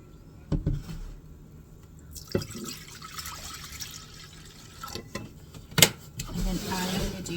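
Apple cider vinegar is poured for pickle brine in a steady, splashy stream that starts partway through and runs on, with a few knocks and clunks from handling in a quiet kitchen.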